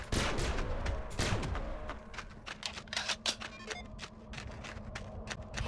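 Gunfire in the video game Bedlam, a dense run of sharp shots, some in quick bursts and others spaced apart, loud and close with a rumbling bed underneath.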